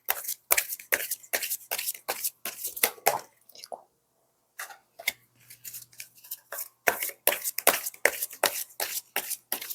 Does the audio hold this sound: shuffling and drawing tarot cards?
yes